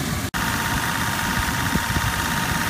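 A car engine idles steadily with its air-conditioning compressor running, a dense, continuous mechanical drone with faint irregular knocks and a brief dropout near the start.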